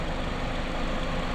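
A Hyundai Genesis G80 with a 2.5-litre GDI turbo petrol engine idles, a steady low hum that stays even and unchanging over a short stretch, with no voices.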